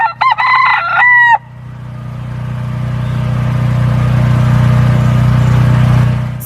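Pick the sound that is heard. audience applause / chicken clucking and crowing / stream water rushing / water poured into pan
chicken clucking and crowing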